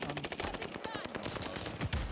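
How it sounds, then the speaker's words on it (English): Rapid automatic gunfire rattles in dense bursts during Call of Duty Warzone Pacific gameplay, close and loud, with individual shots blurring together across the whole moment. "I hear the gunshot over there."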